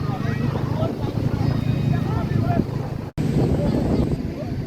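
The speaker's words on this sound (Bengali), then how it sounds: "বঙ্গোপসাগরের নিম্নচাপের কারণে এত বাতাস আর ঢেউ" Strong wind buffets the microphone on Cox's Bazar beach during a Bay of Bengal low-pressure storm, with a constant roar of surf and waves and people talking over it.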